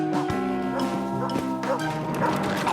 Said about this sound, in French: Je m'apprête à entrer dans une fourrière pleine de chiens, volontairement.